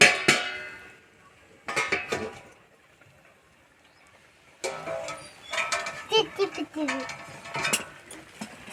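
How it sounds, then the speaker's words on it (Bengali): Metal lid lifted off a cooking pot of simmering masala bori (lentil dumplings) in a home kitchen, with clattering clanks of metal on metal in short bursts separated by quiet gaps. "এবার একটা থালা চাপা দিয়ে দেবো এবার আমি ঢাকাটা খুলে দেবো"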